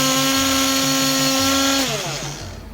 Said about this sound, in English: When I am using it, I can feel the power of this hand blender